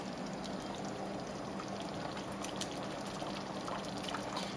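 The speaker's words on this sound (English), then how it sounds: "we're going to very carefully stir in our shredded chicken" Shredded chicken is stirred into a pot of simmering broth for chicken and dumplings, giving a continuous soft liquid churn and bubbling with no talk.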